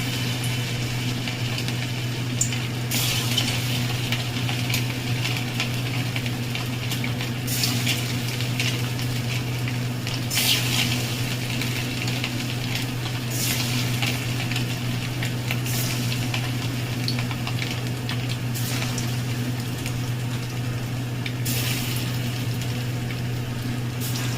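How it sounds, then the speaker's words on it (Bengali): Katla fish balls (muitha) fry in hot mustard oil in a kadai, giving a steady, close sizzling hiss over a low hum, with a few brief bursts of spitting along the way. "তেল গরম হয়ে গেছে, এবার আমি মুইঠাগুলো ভেজে নেব।"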